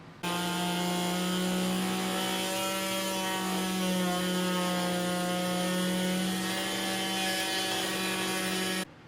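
A power cutting tool runs steadily through Kevlar during a basement build of a Mosquito helicopter, a close, constant high whine with a strong tonal hum that starts and stops abruptly.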